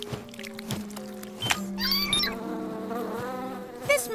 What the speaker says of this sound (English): flapping our wings is how we make thicker honey